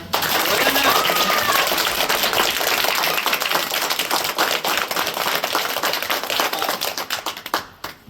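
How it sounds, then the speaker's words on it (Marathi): Schoolchildren clap their hands together at a school felicitation event, a loud, dense burst of many small hands close by that holds steady and then tapers off near the end. "वाजवा टाळ्या"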